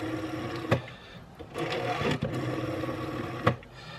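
Cream 1970s DAWN rotary dial telephone, model TSR 8008A, with the dial turned and let go: a steady mechanical whirring buzz, broken by a few sharp clicks as the dial turns and runs back, close and clear.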